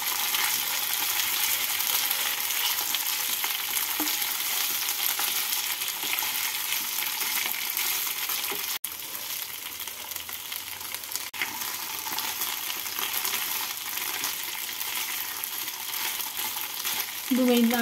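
Potatoes for jeera aloo are stirred and fried in a pan, giving a steady, loud broadband sizzle throughout with occasional scraping strokes, and no talking.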